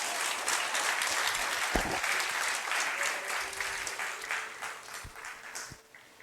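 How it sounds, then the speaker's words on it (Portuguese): A church congregation applauds during a sermon, steady mid-level clapping that slowly fades over several seconds, with a few low thumps and a faint background tone. "aplauda ao Senhor Jesus Cristo."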